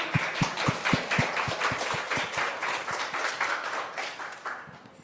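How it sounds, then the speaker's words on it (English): An audience at an academic conference session applauds ahead of a talk: a fairly quiet, moderate spatter of claps, sharper individual claps early on and a softer continuous patter after. "So we do the applause in advance this time."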